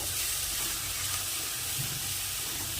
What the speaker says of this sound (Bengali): এবার আমি এর মধ্যে হালকা একটু জল দিয়ে এটাকে আবার সুন্দরভাবে মশলাটাকে ভালোভাবে কষিয়ে নেব।